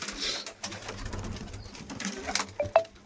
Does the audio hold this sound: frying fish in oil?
no